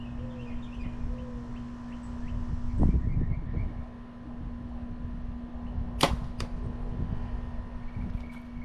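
A single arrow fitted with a test broadhead tip whooshes off a bow with a sharp release, followed a few seconds later by a distant impact thud, under light wind and outdoor hum.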